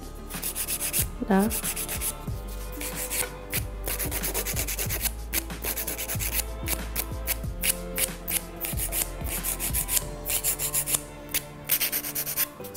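Rapid back-and-forth strokes of a nail file shaping an acrylic nail during a glitter manicure, a steady rasping scrape that repeats closely and loudly throughout, with a brief spoken word near the end.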